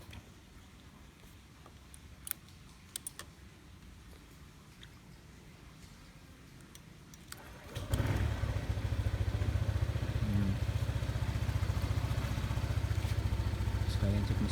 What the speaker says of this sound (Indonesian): Nah, ini coba saya starter dulu